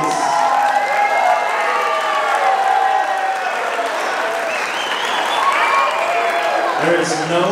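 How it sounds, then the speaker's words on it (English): Wedding guests applaud and cheer loudly at a reception in a barn venue as the newlyweds are introduced, dense sustained clapping mixed with whoops and crowd voices throughout. "Give these two a round of applause, please."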